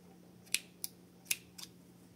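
Scissors snip through crochet yarn while finishing a baby's crocheted sock, four short crisp cuts spaced about a third of a second apart, close and quiet with no talking.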